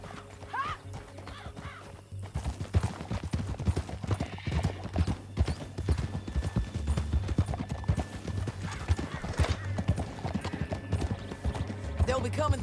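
Horse hooves clip-clop at a steady gallop in Red Dead Redemption 2, loud and continuous under game music and spoken dialogue, with a horse whinny early on.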